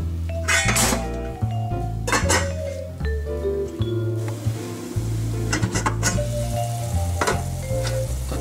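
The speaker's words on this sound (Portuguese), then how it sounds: "vamos só agora cozer aqui um bocadinho a cebola antes de colocarmos as ervilhas" Chopped onion sautéing in a pan with a steady bright sizzle, punctuated by several loud scrapes and clinks of a utensil against the pan, close up.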